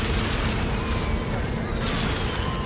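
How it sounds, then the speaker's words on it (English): Wartime bombing explosions make a dense, continuous booming rumble, loud and unbroken for a few seconds. "In the summer of 1940, Hitler ordered the bombing of English cities."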